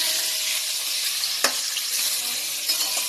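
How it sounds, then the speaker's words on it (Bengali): Potatoes for a meat curry fry in a pan with a steady, close sizzle, broken once by a sharp click partway through; no voices. "এইখানে দেখো এই যে মাংসের আলু ভাজছি"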